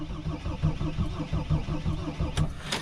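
A Mercedes Sprinter T1N diesel van with a disconnected low-pressure fuel line cranks over, a rapid rhythmic churning of the starter turning the engine, loud and close, with no speech.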